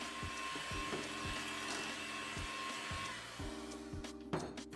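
An electric mixer runs on low, blending egg yolk and vanilla into cookie cake batter with a steady whirring hum and a rhythmic knocking as the beaters turn in the bowl, close and fairly quiet.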